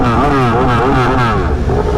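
A motorcycle engine revs hard at a Marco Simoncelli memorial rally at Misano, a loud, close, continuous roar with rising and falling pitch sweeps throughout.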